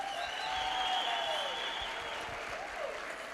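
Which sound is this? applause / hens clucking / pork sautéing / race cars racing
applause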